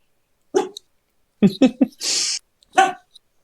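A dog gives a handful of short, close barks in quick bursts, with quieter sounds between them in an indoor setting.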